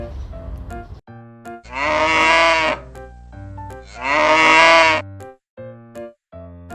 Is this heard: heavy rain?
no